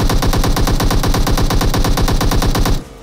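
Sustained automatic gunfire from the mobile battle-royale game PUBG Mobile, a loud, rapid, evenly spaced burst of shots lasting almost three seconds before cutting off abruptly.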